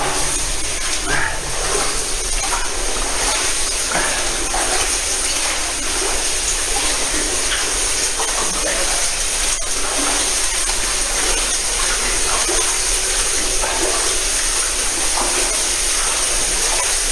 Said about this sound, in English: Dripping off the roof